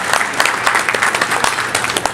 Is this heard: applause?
yes